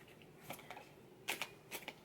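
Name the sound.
shuffling a deck of tarot cards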